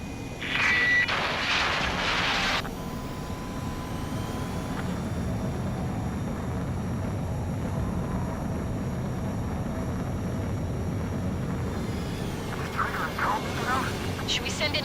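A fighter jet in the video game Ace Combat 7: Skies Unknown drones steadily as it attempts to land while low on fuel, a continuous engine roar, with brief bursts of voices near the start and end.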